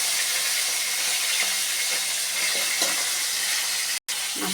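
Tilapia pieces frying in hot oil in a pan, salted, a steady loud sizzle and hiss throughout with faint clinks, broken by one brief gap near the end.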